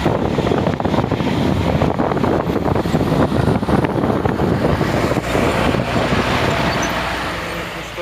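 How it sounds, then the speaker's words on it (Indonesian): Strong wind roars and buffets against the microphone at the top of an uphill road, mixed with the rush of passing traffic, easing off slightly toward the end. "Angin kencang pula lagi"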